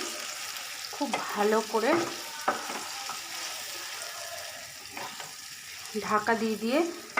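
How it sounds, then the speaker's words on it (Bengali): Crushed whole potatoes frying in hot oil for a rustic Bengali potato curry, a steady close sizzle broken by repeated scraping stirs of the spatula in the pan, with no voices. "খুব ভালো করে ভেজে নেব, যাতে এটা সেদ্ধও হয়ে যায়, ভাজাও হয়ে যায়।"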